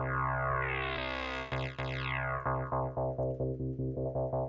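A sustained sampler synth tone has its low-pass filter cutoff swept down and back up, darkening and brightening, then pulses in short rhythmic repeated notes.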